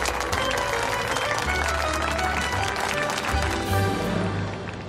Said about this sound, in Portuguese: queiram aplaudir a nova presidente da Sex Delícia, Marion Almeida.